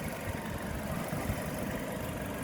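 A 4-cylinder 1.4 litre G4EE petrol engine from a 2008 Kia Rio idles steadily, a dense, continuous low rumble with a faint knocking texture and no talk over it.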